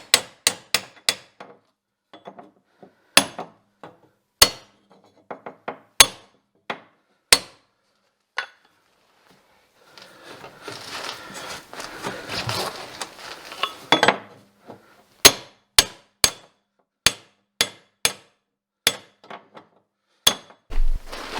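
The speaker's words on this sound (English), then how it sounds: "I had to go ahead and give that a few taps just to get it fully seated" Sharp metallic hammer taps seat an Avid Products anti-ratchet driver on a snowmobile, single and paired strikes spaced irregularly, loud and close, with a stretch of rustling handling noise in the middle.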